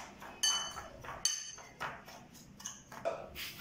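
A utensil stirs food colouring into cake batter in a bowl, making a few close, sharp clinks and scrapes against the bowl in an uneven rhythm.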